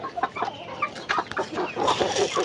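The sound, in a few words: chickens clucking in a coop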